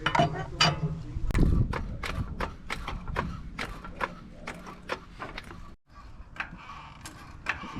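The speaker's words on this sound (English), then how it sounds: "we just want to jack the vehicle up until the tire is about an inch off the ground" A jack raising a 2011 Toyota Tacoma for a front brake job, steady rhythmic ratcheting clicks close by with a brief pause partway, a voice briefly audible.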